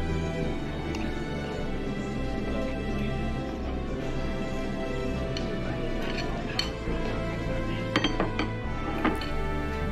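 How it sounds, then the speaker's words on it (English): An Obi robotic feeding device repositions food and works a spoon in its serving compartments, giving a steady run of light clinks and scrapes with a few sharper metallic taps near the end. "Obi also has the ability to reposition remaining food items left in every food compartment."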